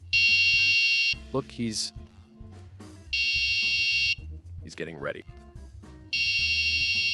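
A DIY home alarm gives long, loud electronic beeps as it arms, three steady tones about a second each with pauses between them, while people talk in the gaps.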